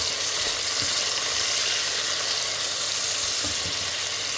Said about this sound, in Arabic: بعد ما استوى البصل نضيف الطماط ونحرك